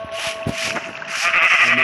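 Minecraft sheep in a pen bleat in quick, wavering calls, layered over one another at close range.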